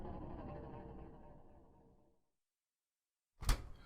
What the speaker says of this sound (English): You open the dryer door.